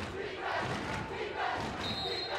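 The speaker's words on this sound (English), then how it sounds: "the students trying to cheer on the D here of Box Elder" A high school basketball crowd of students cheers on their team's defense in a gym, a loud continuous roar of voices with no clear break.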